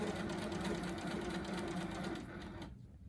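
A sewing machine doing free motion quilting guided by a ruler, running steadily with a close, rapid, even stitching hum before slowing and stopping near the end.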